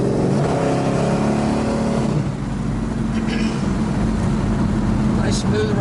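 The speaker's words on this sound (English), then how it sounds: "It's a nice running car." A 1963 Plymouth Belvedere driving down the road, its engine droning steadily from inside the cabin with a continuous low rumble and road noise, briefly swelling as it pulls.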